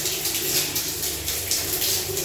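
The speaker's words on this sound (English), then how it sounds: "And then flush." Rushing water of a toilet flushing in a hotel bathroom, a steady hissing gush close by that runs for a couple of seconds with no talk.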